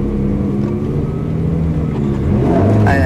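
BMW E30 3-series car accelerating hard at full throttle on a coned course, a steady loud engine drone that rises in pitch toward the end, heard from inside with the window up.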